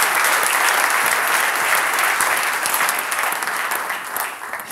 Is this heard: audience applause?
yes